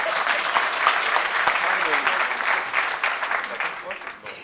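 An audience at a panel on soil and desertification claps for several seconds, a dense, steady round of applause with a speaker's voice briefly over it.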